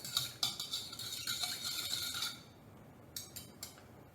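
A spoon stirs yeast and sugar into water, clinking in quick bright taps against the container for a couple of seconds, then pausing before a few last clinks; nearby and moderately quiet, with no talking.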